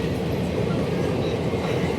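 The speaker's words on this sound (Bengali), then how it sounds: "দেখতেই পাচ্ছ এই যে ট্রেন যাচ্ছে 210" Local train passing at a busy railway station on the Barasat line, a loud continuous low rumble and rattle of wagons rolling close by with no break.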